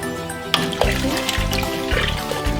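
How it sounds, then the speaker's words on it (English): About a liter of water is poured into a soup pot full of vegetables for a bacon and chicken vegetable soup, a loud, close, continuous splashing gurgle with no talk. "we're just going to add in a bit more water,"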